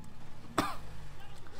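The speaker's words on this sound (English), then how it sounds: "Sorry if I'm coughing too much." A person with a cold gives a single short cough over a steady low hum, fairly quiet and close.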